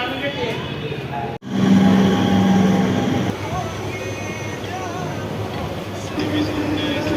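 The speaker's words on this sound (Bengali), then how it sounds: "শিয়ালদা স্টেশনে ঢুকছে ট্রেনটা" A train rolls into Sealdah station in Kolkata with a steady mechanical rumble and hum of the carriage, a sharp clunk partway through, while a voice talks over it.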